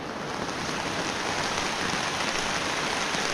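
Heavy rain pours down in a continuous dense roar of drops, loud and even throughout, with the steady wash of flowing water and no voices.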